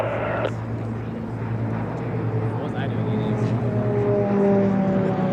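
A warbird fighter aircraft lands on runway 36 at EAA AirVenture, its engine a steady, droning rumble held throughout while a voice talks over it.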